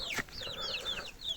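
Adler and Dominant breed chicks and chickens at a poultry farm give a quick run of high, close peeping chirps and soft clucks, several overlapping calls within a moment.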